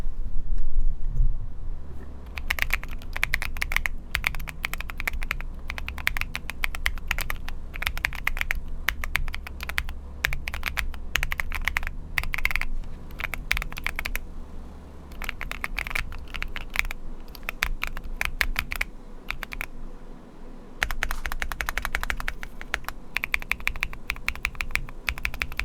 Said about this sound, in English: what does it actually sound like after we put all the keycaps back on?